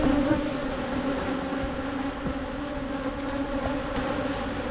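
Bees in an opened beehive, a steady dense buzzing hum from many insects heard up close throughout, with no talking.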